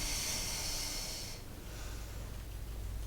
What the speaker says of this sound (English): And we'll do 2 more breath cycles. 1 more breath cycle.